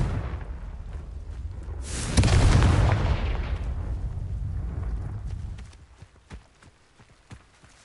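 In Hogwarts Legacy on PS5, a Confringo fire spell bursts into an explosion, a single loud roaring blast that swells and slowly fades, followed by scattered faint clicks.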